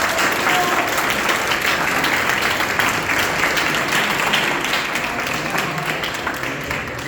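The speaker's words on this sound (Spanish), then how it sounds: "Fuerte aplauso." Sustained applause from a school debate audience fills the hall at steady, even volume, dense clapping with no break, tapering slightly toward the end.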